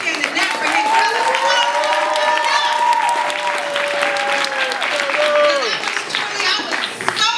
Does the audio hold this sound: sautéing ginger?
no